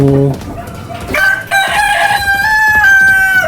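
Backyard pet chickens cluck in short bursts, then a rooster breaks into a loud, close crow that carries on to the end.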